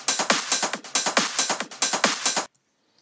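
A trance percussion sample loop pulses with clap, kick and hi-hats in a fast, even rhythm of sharp, bright hits, playing loud and close before cutting off abruptly into silence.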